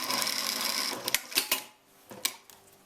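A sewing machine stitches a leather buttonhole seam, running in a steady close whir before stopping into a few separate clicks and thumps.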